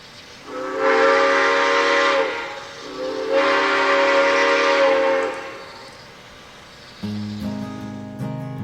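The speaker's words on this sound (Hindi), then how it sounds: "यह है भाप वाले इंजन की रेलगाड़ी।" A steam-engine passenger train sounds its whistle in two long, loud blasts, each lasting about two seconds, followed by a brief lull and then a burst of harsher, multi-toned railway noise.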